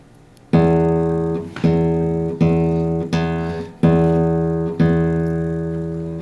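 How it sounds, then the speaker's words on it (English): Six low guitar notes plucked with the thumb one after another, each ringing out full and warm before the next, with no talking. "Notice with the thumb, I'm plucking with this big joint here."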